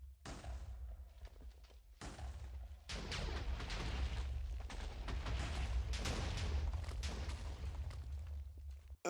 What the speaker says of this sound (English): But I accidentally set off that last TNT.